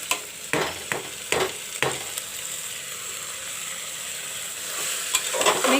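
Dal sizzles and fries in a pan while a spoon stirs it, giving a steady close sizzle broken by several distinct scraping clinks of stirring, with no talk.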